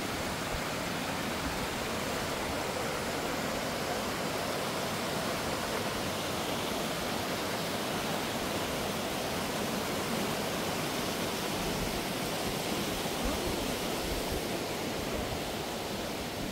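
Cheonjeyeon Falls on Jeju, a waterfall pouring in a steady, dense broadband roar that stays constant throughout, fairly close and unbroken with no voices.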